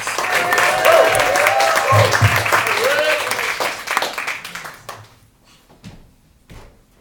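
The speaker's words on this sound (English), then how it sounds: "Start clapping right now, y'all" A comedy club audience claps to welcome the next stand-up comic, a dense loud wash of applause for about five seconds that fades out, leaving sparse scattered claps and quiet room noise.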